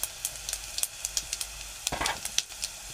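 Mustard seeds and cumin crackle in hot oil alongside garlic cloves, a steady close sizzle punctuated by frequent sharp pops and spits, with no voices.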